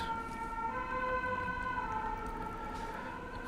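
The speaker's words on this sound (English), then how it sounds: "siren outside." An emergency vehicle siren outside a home, steady wailing tones carrying from a distance and holding at an even level throughout.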